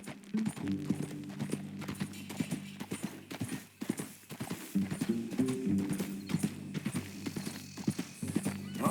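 Horse hooves clip-clop steadily in Red Dead Redemption 2 as a rider travels, a quiet rhythmic clatter with game music tones underneath and no talk.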